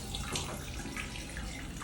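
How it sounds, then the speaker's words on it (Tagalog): Water gushes steadily from an open household tap, a continuous hissing rush of fairly even loudness with no talk. "Pat, sino sa inyong dalawa ang nagbukas ng gripo?"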